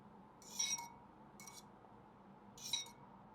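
Utensil clinking against a bowl while mixing an egg mixture, three short bright taps in a quiet kitchen.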